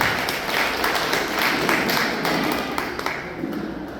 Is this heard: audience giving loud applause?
yes